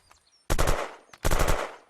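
Two short bursts of rapid automatic gunfire from a P90 submachine gun in the game Unturned, close and loud, separated by a brief pause.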